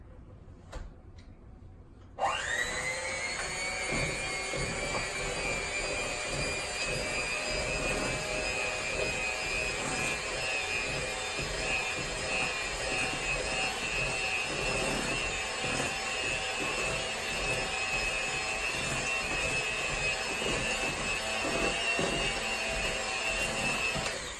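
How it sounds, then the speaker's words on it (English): Electric mixer beating sugar and butter together, starting abruptly after a brief quiet moment and then running as a loud, steady motor whine with a constant high pitch for over twenty seconds, with no talking. "I'm going to take my mixer and mix all this together."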